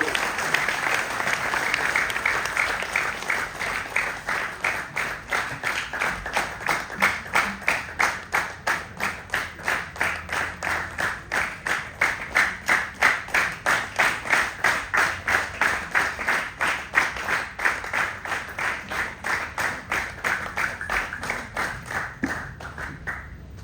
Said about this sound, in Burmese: လက်ခုပ်တီးပြီးဆရာကြီးကိုကြိုဆိုရအောင်